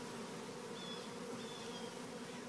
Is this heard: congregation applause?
no